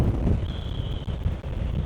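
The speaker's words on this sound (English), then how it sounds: "that's an awful lot of wind blast" Heavy wind blast roars across a motorcycle helmet with the visor lifted, a dense, continuous low rumble of buffeting air close to the microphone.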